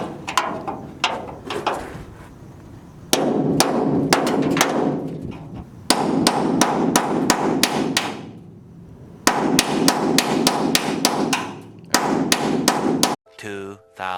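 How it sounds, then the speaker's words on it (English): Hammer driving a chisel against a stuck part on a C10 truck during a minitub job, heard as repeated loud sharp metallic strikes in rapid bursts of several blows, with short pauses between the volleys. "after like a million fucking hits with a hammer and a chisel, it's off"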